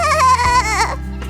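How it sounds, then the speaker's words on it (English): A cartoon baby goat lets out a loud, wavering bleat close up that drops into a short, plaintive cry at the end. "Oh, Baby Goat, are you having trouble blowing bubbles?"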